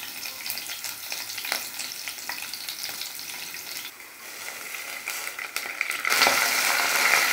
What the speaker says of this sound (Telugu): నూనె వేడిన తర్వాత 1 టేబుల్ స్పూన్ జీలకర్ర, స్పూన్ ఆవాలు, మెంతులు ఒక 10-15, 1 టేబుల్ స్పూన్ శనగపప్పు